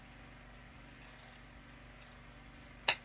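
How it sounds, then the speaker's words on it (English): Scissors snip once through ribbon cut at an angle while making a Christmas bow, a single crisp close cut after quiet handling rustle. "fold it in half, and then you cut at an angle this way"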